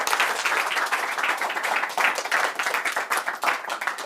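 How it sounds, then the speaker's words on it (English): An audience claps steadily with no break, a warm, full round of applause that holds throughout. "give this lady a round of applause"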